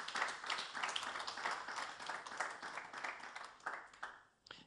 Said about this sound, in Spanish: Dele un aplauso al que es fiel por los siglos de los siglos